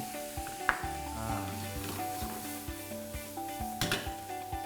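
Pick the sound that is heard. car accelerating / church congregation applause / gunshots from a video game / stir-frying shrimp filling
stir-frying shrimp filling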